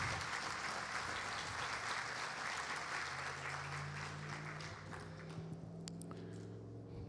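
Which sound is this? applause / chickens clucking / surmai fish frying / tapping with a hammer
applause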